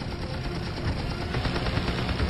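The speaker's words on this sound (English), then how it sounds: "He pulls out on a strafing run on a Japanese cruiser." An F6F Hellcat fighter fires its machine guns on a strafing run against a Japanese cruiser: a dense, loud, unbroken roar with a rapid pulsing rattle running through it for the whole stretch.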